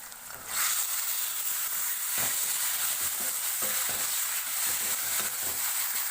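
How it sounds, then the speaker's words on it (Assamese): Chicken pieces frying with browned onions in hot oil, starting with a quiet moment and then a loud steady sizzle with intermittent stirring knocks and scrapes, no speech. "মাংসখিনি তেল মিক্স হোৱালৈকে ভালদৰে ভাজি লৈছো।"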